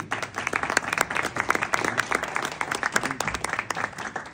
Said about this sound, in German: Bitte einen Applaus für Kalut.